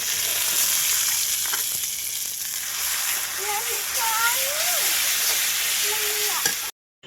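Chili paste fries in a pan with a strong, steady sizzle and stirring scrapes, someone speaking over it midway before the sound cuts off abruptly near the end.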